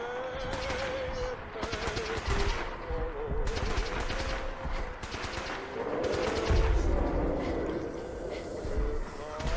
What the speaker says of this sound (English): I'm just trying to take him at range with a 50 caliber sniper rifle